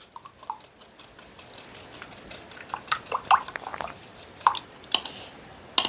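An acrylic paint brush being rinsed in a water cup gives soft, intermittent splashes, drips and small knocks against the container, quiet and close with no one talking.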